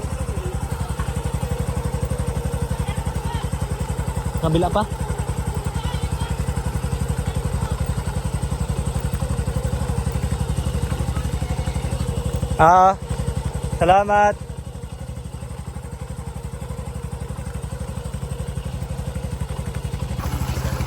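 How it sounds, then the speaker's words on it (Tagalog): A motorcycle engine chugs steadily throughout at close range, ridden on a punctured tyre, with someone speaking briefly over it and a couple of sharp clattering bursts. "pinandar ko na lang para mapabilis din yung takbo ng motor"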